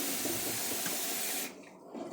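Tap water pours steadily into a cooking pot for spaghetti, a close, full hiss that cuts off abruptly partway through, leaving quieter kitchen room sound.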